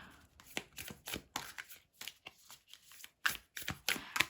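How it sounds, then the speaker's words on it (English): Tarot cards being shuffled during a pick-a-card reading, heard as a quick series of crisp riffling bursts and soft slaps, close up and moderately loud with brief pauses between and no talk. "I'm going to shuffle"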